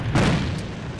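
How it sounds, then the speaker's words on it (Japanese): An enemy grenade goes off in the online shooter AVA, a single close, heavy boom with a short rumbling tail. "敵の手榴弾。"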